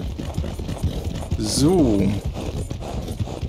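Horse hooves clip-clop in Red Dead Redemption 2, a steady footfall rhythm running under close male speech in German.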